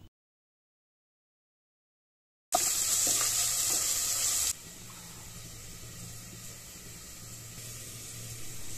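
Onions, capsicum, salt, chili and spices hit a hot pan for veg noodles after a moment of silence, giving a loud burst of sizzling that settles into a steady, softer fry.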